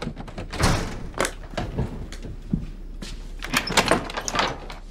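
A door is opened with several thuds, bangs and sliding knocks that come in irregular bursts at close range, with no voices over them.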